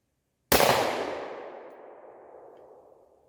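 A single loud shot from a Ruger 5.7 pistol fired at targets cracks sharply, then a long echoing tail fades out over about three seconds.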